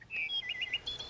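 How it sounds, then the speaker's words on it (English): A Wild Republic plush wood thrush plays its recorded call: a short series of clear, fluting whistled phrases, loud and close, with brief gaps between notes and no talking. "Another wood thrush."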